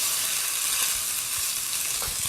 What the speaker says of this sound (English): You want to hear that nice sizzle, because that's going to mean some flavor.